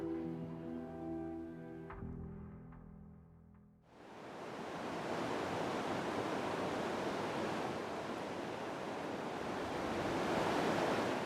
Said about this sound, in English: The powerful rapids that had been the obstacle for so long remain impassable today.